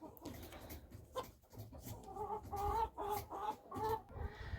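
Chinese silkie hens, a fluffy breed of chicken, cluck in a run of soft repeated calls; quiet and fairly close, with no talk.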